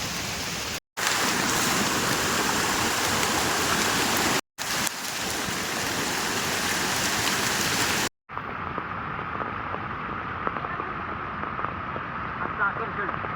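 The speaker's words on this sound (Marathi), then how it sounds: "पाऊस खूप आहे." Heavy monsoon rain pours in a loud, dense roar on a trek to Rangana Fort, interrupted by a few abrupt cuts, then continues slightly muffled and softer toward the end.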